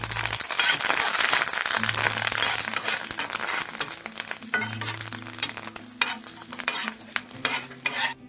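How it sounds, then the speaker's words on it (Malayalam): Green chillies and curry leaves frying in hot oil, a close, bright crackling sizzle with occasional clinks of a utensil against the pan, busiest at first and continuing throughout. "എണ്ണ ചൂടാക്കി കഴിയുമ്പോൾ കുറച്ച് പച്ചമുളക് കയറി ഇട്ട് കൊടുക്കാം. നന്നായിട്ട് ഫ്രൈ ആയിട്ട് ഒരു 2 കതിർപ്പ് കറിവേപ്പില."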